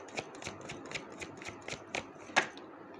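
Tarot cards being shuffled by hand, a rapid series of about ten crisp riffling flicks at a steady rhythm, close and quiet, ending in a sharper snap.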